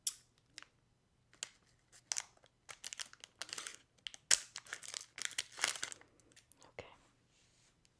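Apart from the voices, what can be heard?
crinkling candy packaging being cut open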